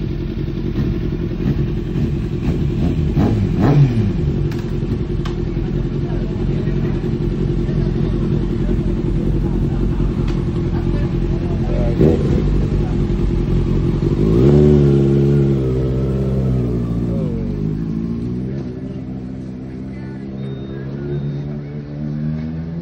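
A Kawasaki superbike, a Z750 or ZX6R with an aftermarket Leovince or Akrapovic exhaust, idles loudly, then blips its throttle in a series of rising and falling revs that grow near and loud before settling.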